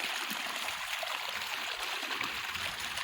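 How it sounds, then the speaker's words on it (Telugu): A steady stream of bore water pours into a rice paddy, making a constant hissing gush close by that holds even through the short stretch with no voices. "నీళ్ళు బాగా వస్తాయి బోర్ నీళ్ళు."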